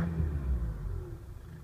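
A 2015 Isuzu D-Max Fury double-cab pickup's 2.5 twin-turbo diesel idles with a steady, close low rumble and a faint clatter, holding an even note throughout.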